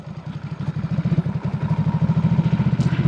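A motorcycle engine thrums with a rapid pulsing beat, growing louder and steadier, close by, as a group ride of about 20 superbikes sets off.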